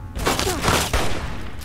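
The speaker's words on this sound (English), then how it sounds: "For some reason, my bullets were hitting the wall, but theirs were not." Rapid bursts of gunfire in the Fallout video game, a dense, loud volley of shots with a voice faintly underneath.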